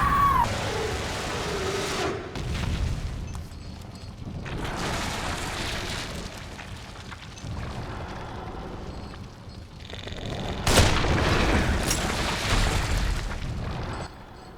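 Fire bursting from pipes in The Evil Within survival horror game, heard as repeated loud whooshing roars in three or four surges over a steady rumbling game soundscape.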